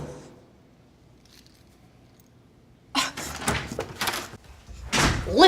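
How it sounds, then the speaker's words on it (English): A door slams shut after a near-silent stretch: a sudden loud bang, a few rattling knocks, then another heavy impact near the end. "if you slam a door in my face like that again"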